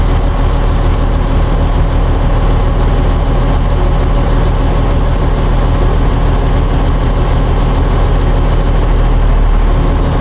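A truck tractor engine idles steadily and loudly during a clutch and brake test, a constant deep diesel rumble close by with no talk over it.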